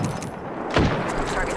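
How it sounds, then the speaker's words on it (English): Gunfire in the battle-royale shooter Apex Legends: a short burst of shots with a sharp close report in the middle, heard under game voice lines. "Hostile spotted. Opening fire."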